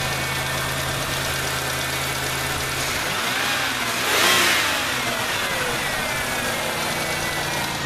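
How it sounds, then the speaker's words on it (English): A car engine runs steadily after a P0300 random misfire repair, with faint lifter ticking; the idle hum rises briefly in a short rev midway before settling back, close and continuous. "A little bit of lifter noise, but it's running good."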